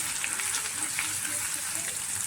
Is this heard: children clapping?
no